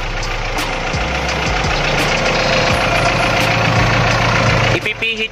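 A car engine idles steadily during carburetor tuning, a continuous low rumble with a rhythmic knocking pulse close by, running without break for several seconds before a brief shift near the end.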